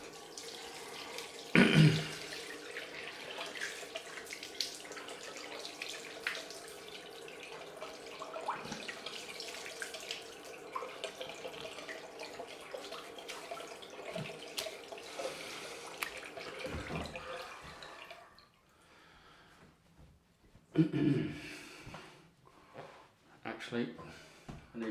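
Tap water runs into a bathroom sink during a cold rinse after a wet shave, a soft steady wash with a few louder splashes and a pause near the end.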